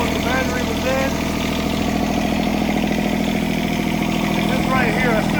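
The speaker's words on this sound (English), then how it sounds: "I don't know if you can hear me over the engine, but got it running." A John Deere engine, just restarted after a dead battery, runs and idles at a steady, loud, unbroken drone throughout, with a faint voice partly buried beneath it.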